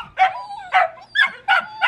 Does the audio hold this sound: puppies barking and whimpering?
yes